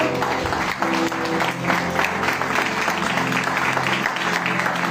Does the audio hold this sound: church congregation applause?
yes